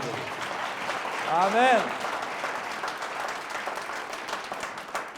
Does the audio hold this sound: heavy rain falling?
no